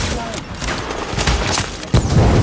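Heavy gunfire in The Division as players shoot at a sniper: rapid overlapping bursts and sharp shots, loud and close, with players' voices talking over the shooting.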